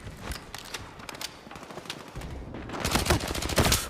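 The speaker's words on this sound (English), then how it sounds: "shotguns with range in this game always got me messed up" Rapid bursts of shotgun fire in a first-person video game, a loose volley of sharp blasts that thickens and grows louder toward the end, with no talk.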